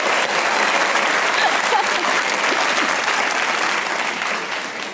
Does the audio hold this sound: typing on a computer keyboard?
no